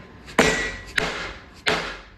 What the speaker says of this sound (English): it's just a dead blow hammer to the back, and then another hit